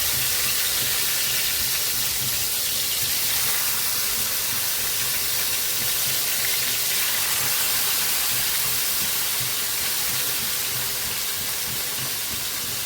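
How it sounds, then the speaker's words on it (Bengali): Marinated katla fish frying in a pan gives a loud, steady sizzle and hiss of hot oil, close and constant throughout with no pauses. "যে মাছটা আমি ম্যারিনেট করে রেখেছি, গ্রেভিটা রেখে রেখে মাছটা শুধু দিয়ে দেবো ভাজি করে নেব।"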